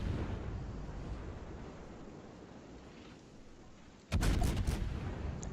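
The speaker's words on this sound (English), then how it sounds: "So I then go undetected, and I can just fire with impunity at this Amagi" Naval gunfire in World of Warships as the cruiser Des Moines shoots at the battleship Amagi: a sudden burst of close, heavy booming shots after several seconds of steady low rumble and ocean wash.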